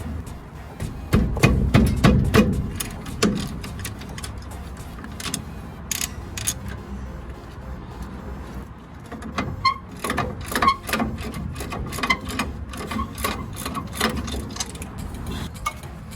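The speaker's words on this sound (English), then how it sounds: "We call this wire brush. Clean this out real quick" Car suspension parts on a 1979 Mazda B2000 being scrubbed clean with a wire brush, repeated quick scraping strokes in bursts, loud at first, then pausing before lighter rhythmic brushing resumes.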